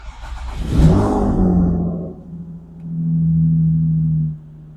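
A car engine cranks and catches with a loud burst, then settles into a steady low idle hum that drops off near the end, with no talking.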